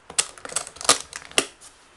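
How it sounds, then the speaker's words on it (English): A large Sephora makeup train case being shut, giving a quick series of sharp clicks and taps as the lid and latches meet. The sounds are close and loud, with no talking. "when you close it, close it like this."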